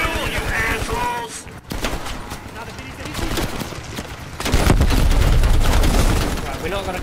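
Automatic gunfire and heavy blasts rattle through a Call of Duty Black Ops Cold War battle, bursts layered with booming impacts that swell louder toward the end, while a voice is heard shouting over the chaos.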